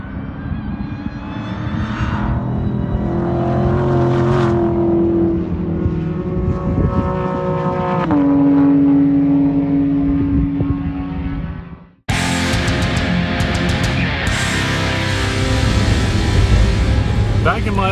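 A Dodge Hellcat and a Porsche GT3 race by on a track, loud engine roar rising and falling as each car passes, with a sharp cut to a brighter, harsher engine blast in the final seconds.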